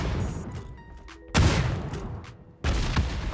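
Two sudden, loud grenade-launcher explosions in the mobile battle-royale game New State Mobile, each a sharp booming burst followed by a rumbling tail, the second arriving about a second after the first, over quieter in-game ambience.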